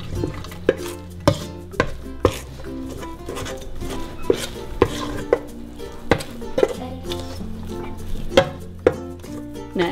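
A spoon stirring dough in a bowl, a steady run of knocks and scrapes against the dish, close and moderately loud, with no talking.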